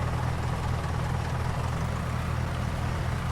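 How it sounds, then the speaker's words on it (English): A new tractor engine idling in the Farming Simulator 19 video game, a steady, dense low rumble with broad hissing noise that holds unchanged throughout. "And there's our new tractor."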